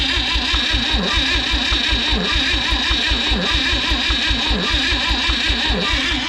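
An engine that will not start cranks over steadily with a rapid, rhythmic chugging pulse, loud and close, continuous throughout without catching or speech.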